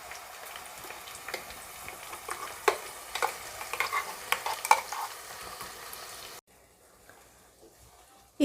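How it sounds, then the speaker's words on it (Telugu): Onion paste for chicken curry sizzling in a pan while being stirred, soft crackling and scraping strokes, ending in near silence. "ఈ పేస్ట్ అంతా కూడా కలుపుకుంటూ ఒక 5 మినిట్స్ మగ్గనివ్వాలండి"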